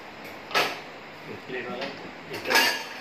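Plate drawer in a fitted kitchen with a tandem box trolley pulled open, with dishes and cutlery clattering in short bursts near the start and end. Voices talk in between.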